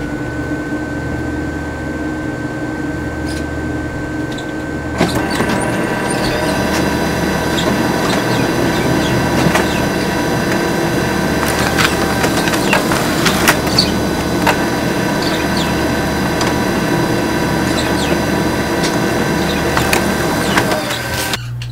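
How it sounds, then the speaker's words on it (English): A printer feeding a sheet of paper out and then pulling it back in, a continuous mechanical whir and rattle with repeated clicks and roller noises, loud and close, starting after a few seconds of steady motor hum. "So as you can see, the paper came out, and then it went back in."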